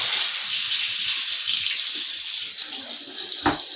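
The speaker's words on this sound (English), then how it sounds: "I'll be rinsing mine in this plastic tub" Steady tap water pours into a plastic tub for rinsing freshly dyed non-superwash wool yarn, a continuous bright hiss with a brief splash near the end.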